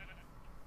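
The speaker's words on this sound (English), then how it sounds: "Oh, there are some sheep over here." A sheep in the video game Utopia 3 gives a brief, faint bleat, short and distant-sounding against a soft background hum.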